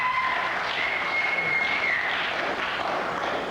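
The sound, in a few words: applause for Ron Haydock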